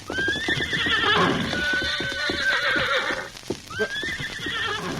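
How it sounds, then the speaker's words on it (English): A riderless horse neighs loudly twice, long whinnies rising and falling, with hoof clip-clop mixed in, close and clear with no talk. "Connie, look, there's a horse. Yeah, and coming this way"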